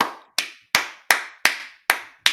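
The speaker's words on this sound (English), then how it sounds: "Round of applause." Seven single, sharp claps ring out at an even, slow pace, each loud and close with a short decaying tail and silence between them.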